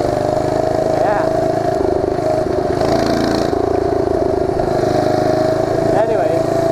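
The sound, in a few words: mini bike engine and muffler running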